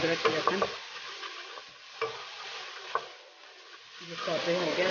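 Ginger-garlic paste sautés in hot oil with a soft, close sizzle. Spoon taps and scrapes break through it at intervals as the paste is stirred in the pan.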